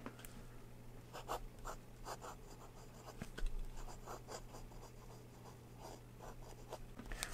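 Aurora Talentum fountain pen with a 14 carat gold nib writing on paper, soft close scratchy strokes in short bursts with brief pauses, quiet and alone.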